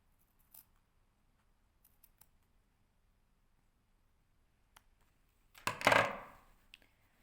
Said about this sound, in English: I'm going to just carefully snip into those corners without actually cutting my stitch line